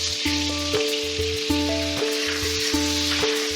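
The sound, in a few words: butter and cashew powder sizzling in a kadai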